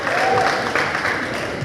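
Steady applause from a live stage show audience, a dense continuous clapping crowd filling the whole moment without a break, fairly loud and close.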